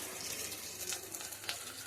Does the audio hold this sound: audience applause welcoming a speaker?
no